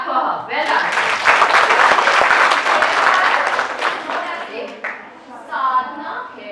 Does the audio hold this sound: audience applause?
yes